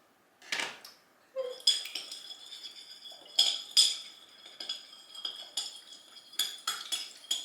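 Cucumber salad with onions being mixed in a bowl, close clinks and scrapes of a utensil against the dish in an irregular series of bright knocks, with no talk.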